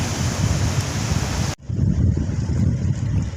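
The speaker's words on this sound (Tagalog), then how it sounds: "Malakas ang alon mga kapardo. Kasi may Bagyo." Strong sea waves roll and crash during a typhoon off Negros Occidental, with a continuous roar of surf and buffeting wind close to the microphone and a brief dip in the middle.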